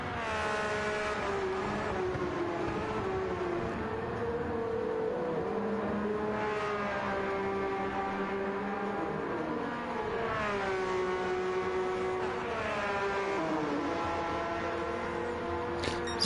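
Race car lapping Monza in a racing game, the engine droning loudly and continuously with rising revs, gear changes and repeated pitch sweeps, with no talk over it.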